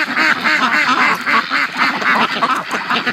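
Muscovy ducks, with sick females among the flock, quack in a steady run of repeated calls, loud and close, with no talk over them.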